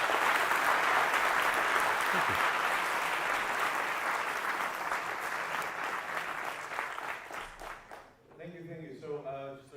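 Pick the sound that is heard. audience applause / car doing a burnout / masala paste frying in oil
audience applause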